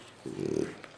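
A Saint-Hubert bloodhound gives a short, playful whining growl, a single close vocal burst lasting under a second.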